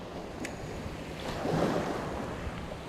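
Sea waves wash and surge around a boat on a coastal squid-fishing trip, a continuous close rush with wind buffeting the microphone, swelling briefly in the middle.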